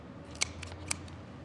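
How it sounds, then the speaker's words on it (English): Two crisp snips of kitchen scissors trimming the wing tips off a spatchcock chicken for Argentinian barbecue, fairly close and isolated against a quiet low hum. "Just use scissors, it's the easiest thing to do."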